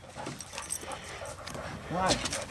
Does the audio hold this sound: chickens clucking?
no